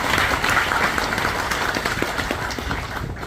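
An outdoor crowd applauds steadily at a groundbreaking ceremony for a county crematorium, a dense continuous clapping wash that tapers slightly toward the end.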